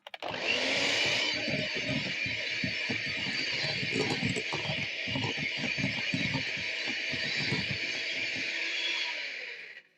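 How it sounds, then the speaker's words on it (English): An electric hand mixer runs continuously through cookie dough made with vanilla essence, a loud steady motor whine with rhythmic thumping of the beaters against the bowl, close up and alone, cutting off at the end. "Once more, you're going to mix up using your hand mixer"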